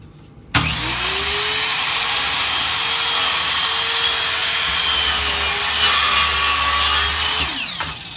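A saw cuts steadily through wood for about seven seconds in a basement workshop, a loud, continuous grinding drone that starts abruptly and holds nearly constant before trailing off at the end.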